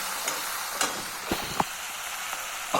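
Green chillies fry in a pan for chutney, giving a soft, continuous sizzle with a few light pops and crackles scattered through.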